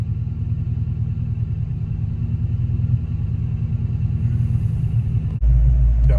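A Fox Body Mustang engine idles steadily with a loud, even rumble after starting right up, close by and alone, with a brief jolt near the end where the level jumps louder.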